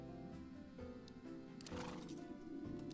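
A horse whinnies in the game Near Mage, a short, fairly faint neigh rising out of a layer of soft background music and ambience.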